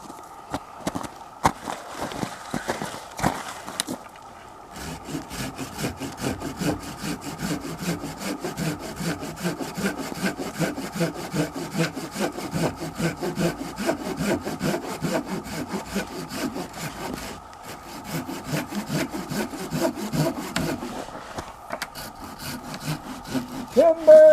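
A hand saw cuts through a small white birch tree in a woodlot, a steady rhythmic rasp of back-and-forth strokes that runs close and continuous after a few opening scrapes, with a brief pause midway.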